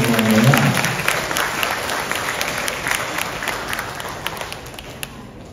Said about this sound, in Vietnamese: xin quý vị hãy dành những tràng vỗ tay thật lớn để gặp lại các em một lần nữa.